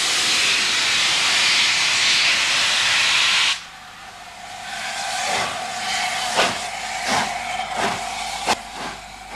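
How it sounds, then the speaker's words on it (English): The Nigel Gresley steam locomotive on a special run on the Settle-Carlisle line opens with a loud, sustained rush of steam hiss, then quieter rumbling running gear with a series of sharp clanks and beats. "This is the Nigel Gresley. It's a great favourite on the line, and here it's on one of its special runs."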